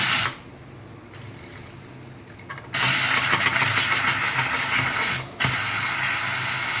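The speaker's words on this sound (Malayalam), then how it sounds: "ചെറുതായിട്ട് വെള്ളം ഒഴിച്ച് തണുപ്പിക്കണം ഇനി." Water is poured over a hot pressure cooker to cool it, producing loud bursts of rushing, hissing spray that stop briefly and resume, with no talk.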